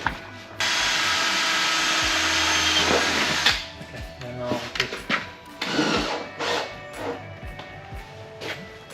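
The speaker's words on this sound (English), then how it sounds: "I'll drill through into the metal." A power drill whirs steadily for a few seconds drilling into car body metal on a Honda Integra DC4, then stops, followed by clanks and bumps of work on metal with some talking.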